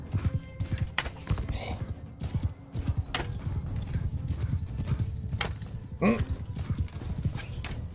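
Rapid, rhythmic hoofbeats of a galloping horse in Mount & Blade II: Bannerlord continue throughout, close and loud, with a brief whinny near the end.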